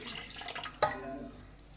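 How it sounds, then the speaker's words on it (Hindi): Water from a tap or jug poured into a large cooking pot for Lahori beef paya, around six to seven litres; a steady rushing pour with one brief splashy burst near the middle, fairly quiet. "अब इसके अंदर मैं ना तकरीबन 6 से 7 लीटर पानी ऐड करेंगे"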